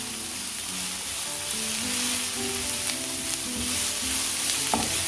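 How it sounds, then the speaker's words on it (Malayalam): Chopped onions frying and being stirred in a pan for a bitter gourd thoran, a continuous sizzling hiss under faint clinks and scrapes of the spoon, with a single sharper knock near the end. "ഇനി അതിലേക്ക് മുറിച്ച് വെച്ചിരിക്കുന്ന ഉള്ളി ഇട്ട് കൊടുക്കാം. ഇളക്കിയിട്ട് നന്നായി ഒന്ന് ചൂടാവട്ടെ."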